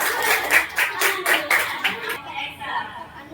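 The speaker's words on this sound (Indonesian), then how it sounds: "Tepuk tangan dulu untuk Nurulifah." Fifth-grade science class clapping together in a classroom, about a dozen rhythmic group claps in a steady beat that then fade out, with children's chatter around them.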